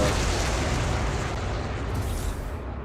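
A siege cannon in Space Engineers fires and its shell explodes, a loud, dense roaring blast that fills the whole stretch and slowly tapers off, with no talking.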